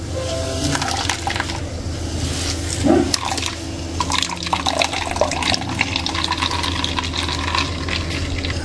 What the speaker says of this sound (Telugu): కొబ్బరిని ఇట్లా కొబ్బరి పాలు ఎక్స్ట్రాక్ట్ చేసుకుందాం